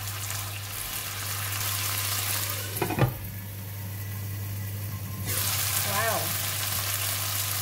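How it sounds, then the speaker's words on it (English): Kailan stems stir-frying with chili in a wok give a steady broadband sizzle with a constant low hum beneath, a brief clatter near the three-second mark, and one short exclaimed word. "we just need to stir fry with chili for about 1 minute"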